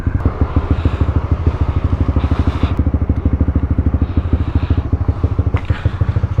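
A Honda CB150X motorcycle engine running with a steady, fast-pulsing low thrum, close and loud, idling or rolling gently, with a brief faint voice partway through.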